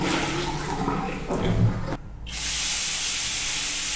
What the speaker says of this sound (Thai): จากนั้นเทน้ำออกปิดเสื้อพอหมาดๆ